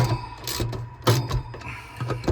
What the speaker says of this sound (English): Just do it with a socket set.